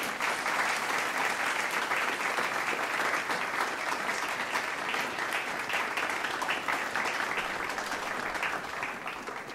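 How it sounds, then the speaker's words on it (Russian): An audience at a show where models are presented applauds steadily: a loud, continuous mass of clapping that holds level for nearly ten seconds with no voices over it. "Встречайте аплодисментами."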